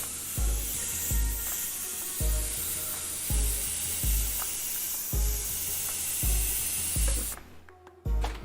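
Paint spraying from a spray gun in bursts of about a second each, repeated steadily with short pauses, a loud close hiss with a low thump at each start, then a fumbling handling noise at the end.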